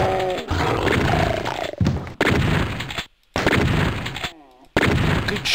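Loud gunfire and roaring in Doom TNT Evilution as a zombie shoots, heavy blasts broken by short silent gaps, with a descending growl toward the end.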